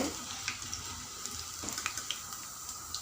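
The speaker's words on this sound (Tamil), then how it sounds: "இது நல்லா பொரிஞ்சு வரட்டும் பாருங்கள்" Soya chunks (meal maker) frying in hot oil give a steady, close sizzle with scattered crackles and small pops throughout, no voices.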